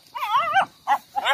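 A dog gives three quick vocal bursts, a longer wavering bark followed by two shorter ones, close by with no other sounds around.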